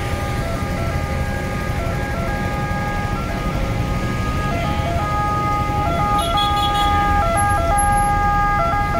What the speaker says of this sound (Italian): Neanche l'ambulanza riesce a passare.